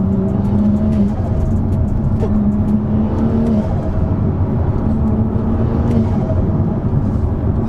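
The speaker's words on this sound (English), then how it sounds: "have a little listen to the turbo flutter when you let off" A tuned BMW M2 drives along loudly, heard from inside the car, with a steady engine drone and some whooshing and fluttering on and off the throttle.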